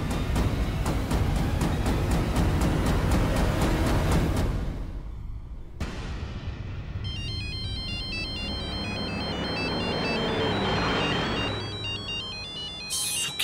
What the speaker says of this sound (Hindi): सुखी बाजी का फोन है